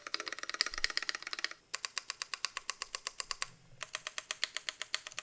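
Steady typing on a Conone65 mechanical keyboard build from KindaKeyboards, close and crisp, with quick even keystrokes in three bursts separated by brief pauses and a low thock under the clicks.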